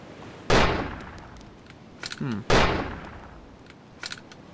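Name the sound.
gunshots from the video game ARMA 2 DayZ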